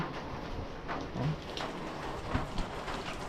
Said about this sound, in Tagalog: kung mapapansin nyo, hanggang ngayon umuulan.